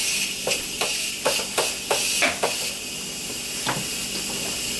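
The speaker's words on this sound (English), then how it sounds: "I'm going to go ahead and release the rest of it." A pressure cooker releases steam in a home kitchen during a hibachi fried-rice dinner. It gives a steady, loud hiss punctuated by a series of sharp clicks and knocks.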